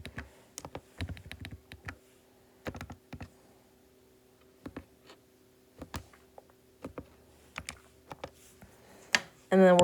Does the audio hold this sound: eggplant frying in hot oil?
no